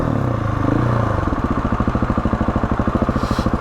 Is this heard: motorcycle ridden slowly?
yes